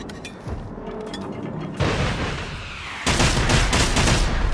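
Gunfire in Generation Zero arrives as heavy, booming shots with long rumbling tails, the loudest blasts landing partway through and near the end, close and powerful.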